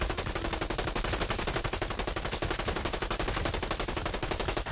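Rapid, continuous minigun fire in GTA 5, a dense unbroken stream of loud shots rattling without pause from start to finish, with no talk over it.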